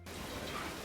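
Soft rain ambience from the Counter-Strike 2 main menu, a faint, steady wash of falling rain with no voices.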